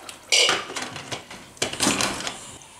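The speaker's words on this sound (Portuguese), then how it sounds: "E aí nós vamos tampar," A lid is set onto a metal pot of pork covered with hot water, giving a sharp clatter followed by a few lighter rattles and a second metallic clank, close and loud with no talking.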